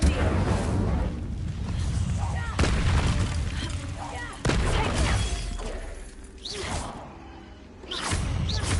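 A fire spell is cast in the Hogwarts Legacy video game, giving loud whooshing, booming bursts that repeat several times over a dense, rumbling game soundscape.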